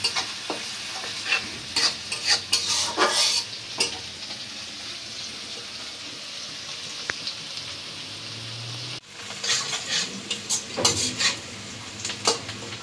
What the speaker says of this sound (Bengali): কাঁচামরিচ আর পেঁয়াজ তেলের সাথে একটু লাল লাল করে ভেজে নিই